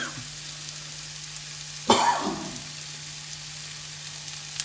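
Onions sautéing in a pan for tacos, a low steady sizzle with one brief burst of louder crackle midway, otherwise quiet and even.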